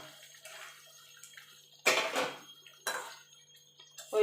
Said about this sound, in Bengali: এবার তুলে পনিরগুলো দিয়ে দেবো।